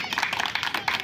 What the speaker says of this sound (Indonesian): Marilah kita tepuk tangan buat beliau.